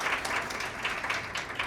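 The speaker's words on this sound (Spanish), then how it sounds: "Un aplauso para el doctor licenciado Kevin." A crowd applauds with dense, steady clapping for a short stretch, moderately loud and indoors.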